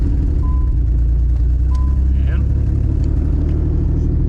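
The engine of a 1990–96 Nissan 300ZX Z32 runs steadily just after starting following a stock fuel pump change, a loud, low continuous hum close by with a few faint electronic beeps.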